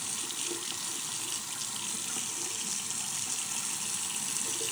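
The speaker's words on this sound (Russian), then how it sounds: "Сейчас воду до горячей пустим." Hot water from a tap runs into a glass in a steady, continuous gushing stream, close and fairly quiet.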